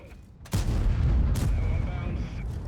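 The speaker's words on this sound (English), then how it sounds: "Oh yes, artillery." Artillery fire in the tank battle game World of Tanks lands with a sudden heavy boom, followed by a rumbling blast tail and a second impact close behind.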